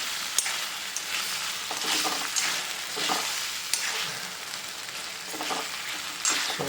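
Stuffed bitter gourd frying in a pan on a low flame, a continuous crackling sizzle close by with intermittent stirring scrapes and small pops throughout.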